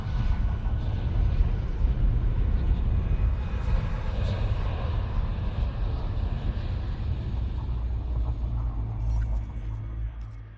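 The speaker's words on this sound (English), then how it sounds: "Warning, frameshift drive operating beyond safety limits. Frameshift drive supercharged." Deep rumbling roar of a supercharged frameshift drive jump in Elite Dangerous, a sustained low drone with a hissing upper layer that slowly fades near the end.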